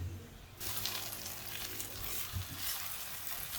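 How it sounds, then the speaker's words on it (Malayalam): Fenugreek leaves and potatoes fry in an uncovered pan and are stirred. A loud close sizzle starts abruptly and holds steady, with scraping stirs through it. "നമ്മളിത് അടച്ചു വെക്കാതെ ഇടയ്ക്കിടയ്ക്ക് ഇങ്ങനെ ഇളക്കി കൊടുക്കുമായിരുന്നു"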